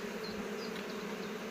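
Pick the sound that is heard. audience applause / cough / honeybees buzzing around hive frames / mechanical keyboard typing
honeybees buzzing around hive frames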